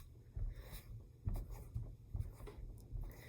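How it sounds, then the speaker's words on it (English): Rubbing an eraser over oil pastel on paper makes soft, uneven scratchy strokes in quick bursts, close and faint, with no talking. "And the more you erase it, the better it looks."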